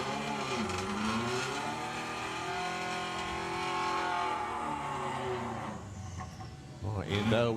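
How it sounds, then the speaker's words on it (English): A VW Beetle drag car does a burnout at Santa Pod Raceway during Bug Jam, its engine revving loudly and holding high revs before dropping, with a commentator talking over it. "In with the strip burner, the VW Beetle appears in the Alton lane"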